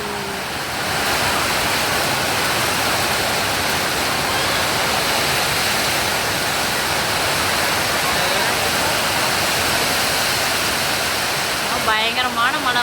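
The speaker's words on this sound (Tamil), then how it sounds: "சூப்பரான மழை பாருங்கள்." Heavy afternoon rain pours down in Anthiyur with a dense, constant roar close by, unbroken for the whole stretch, with a brief clatter and faint voices near the end.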